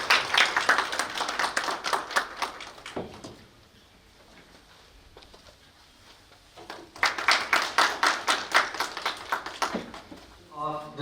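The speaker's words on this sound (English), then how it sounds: "Please give a big round of applause." An audience at the inauguration of a national seminar on rural livelihoods gives a round of clapping, first a brisk rhythmic burst, then a quieter lull, then a second loud wave of close, even handclaps.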